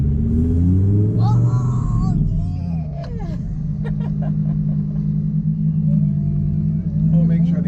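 A Lamborghini engine rumbles steadily while driving around, loud and close, with excited voices and cheering talking over it.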